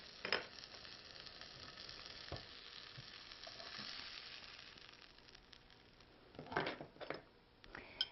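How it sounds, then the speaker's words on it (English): A homemade fresh sausage patty sizzles steadily in a pan, a soft continuous frying hiss broken by a few louder pops and utensil clicks near the end, with no talking. "I'm going to make a patty of the sausage. I'm going to cook it"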